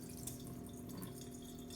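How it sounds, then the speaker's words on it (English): Sugar water for homemade hummingbird food being poured out of an overfilled container, a steady soft trickle and drip of liquid running continuously and faintly with no talking. "so I'm just going to pour a little bit out"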